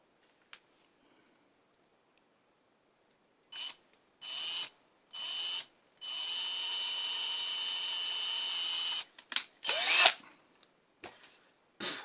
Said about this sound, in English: I'm going to drill just a couple of holes to hold it